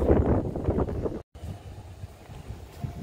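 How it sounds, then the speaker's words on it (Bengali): Strong wind blowing beside open water buffets the microphone in a steady low roar, cut by a brief dropout partway through before the rushing resumes. "কি সুন্দর হাওয়া দিচ্ছে ভাই, দারুণ লাগছে।"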